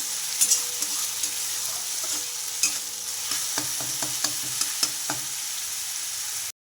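Spice masala with onion and garlic being stirred and fried in a pan for Bengali fish curry, with a soft continuous sizzle and a run of regular spatula scrapes growing more frequent toward the end, close and moderately quiet.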